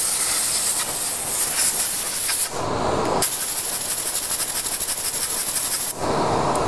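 A turned wooden pencil pot being sanded by hand in a tight corner gives a steady, close scratchy hiss with a continuous rubbing texture, broken by two brief pauses where the sanding stops.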